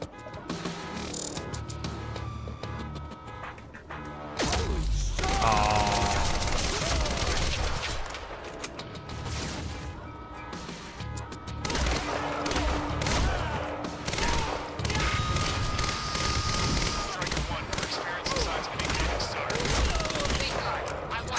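Rapid bursts of gunfire from a gun in the video game Quantum Break, loud and sustained through most of the stretch amid game music and effects, with a brief quieter lull near the start.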